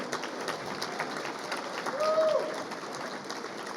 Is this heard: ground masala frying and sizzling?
no